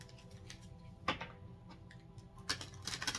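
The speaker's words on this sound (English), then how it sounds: "3 shuffles here." Tarot card deck being shuffled, quiet ticking and riffling card noises with a few sharper snaps, close but faint, no talking.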